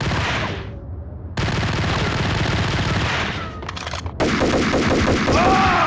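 Ingram submachine gun bursts in Max Payne on PS2, loud and close: a dense rattling stream of rapid shots with a brief pause and a final flurry, game action layered underneath.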